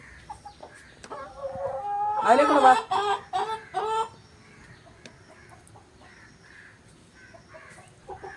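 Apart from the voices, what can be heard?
chickens clucking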